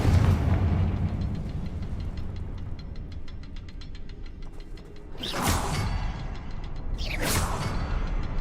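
Two sharp blasting-spell explosions in Hogwarts Legacy, each a sudden whooshing burst a couple of seconds apart, rising out of a steady rumbling game backdrop with faint rhythmic clicking earlier.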